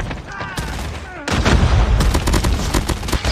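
A grenade goes off in the Call of Duty Mobile shooter game, a heavy booming burst after a short lull, followed by rapid gunfire crackling on, with a voice talking over the early part.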